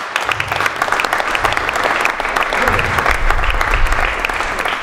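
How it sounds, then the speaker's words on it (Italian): Loud, dense audience applause at the inauguration of a war museum in Castel di Sangro, sustained evenly throughout with many hands clapping close by. "Un applauso a Alessandro Denti."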